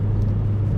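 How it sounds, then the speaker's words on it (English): Steady low exhaust drone from a Mitsubishi Lancer Ralliart with an aftermarket exhaust, a close, even rumble holding one pitch for a brief moment with no voices. "the person that owned this car before me put on an aftermarket exhaust. That is awful."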